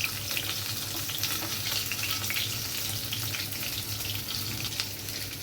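Prawn-stuffed jute leaf fritters deep fry in hot oil, giving a dense, steady crackling sizzle that holds at an even level throughout, with no talking.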